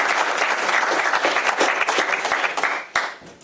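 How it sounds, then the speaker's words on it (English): A room full of people at a school board meeting applauds steadily, dense clapping that holds strong and then tapers off near the end. "so we'll go ahead and give them a round of applause for that."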